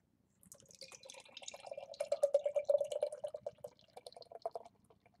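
Orpheus Brewing The Doughnut Revolution Blackout Chocolate, a 10% imperial stout, is poured from a bottle into a glass, a gentle trickling and gurgling pour that swells in the middle and tapers off, close and fairly quiet with no talking.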